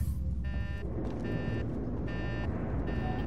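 In the Alien: Isolation video game, a device gives four evenly spaced electronic beeps, each held for under half a second. They sound over a steady low background rumble.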